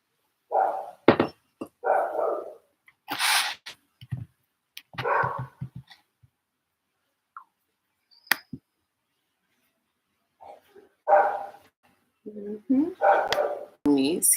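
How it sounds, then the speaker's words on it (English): A dog barks in scattered bursts, some single and some in quick pairs, with quiet gaps between them and a few dull knocks. "And why is the dog barking all the time?"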